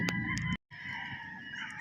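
White Kelso gamefowl chickens on a farm, a brief burst of loud squawking and crowing with a sharp cutoff, then a cluster of overlapping bird calls carrying on at moderate distance.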